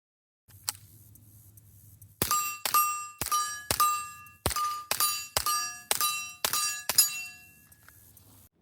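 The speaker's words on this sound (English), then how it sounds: "shooting my 10-inch steel gong along with shooting an IDPA silhouette target, 10 shots offhand" A Volquartsen Scorpion-X LLV rifle fires offhand at a 10-inch steel gong on a range, roughly ten sharp shots in quick succession, each followed by a bright ringing clang that lingers, loud and close with no talk.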